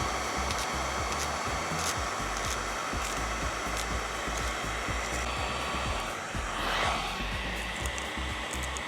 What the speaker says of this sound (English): I've used the heat gun to really like make that edge clear there.